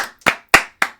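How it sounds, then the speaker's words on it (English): Hand clapping, four sharp separate claps in quick, slightly uneven rhythm, close and loud with silence between them. "Ty France, round of applause."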